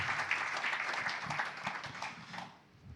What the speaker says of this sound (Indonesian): Mari yang mengerti berikan sorak-soranya yang kenceng buat Tuhan kita.